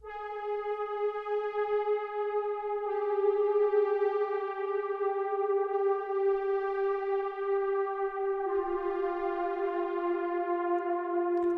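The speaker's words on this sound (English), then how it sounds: "we are introducing the analog power sweep pad from the intro again" An analog power sweep pad synth holds sustained chords, smooth and steady with slow shifts between chord changes, moderately loud and alone for about eleven seconds.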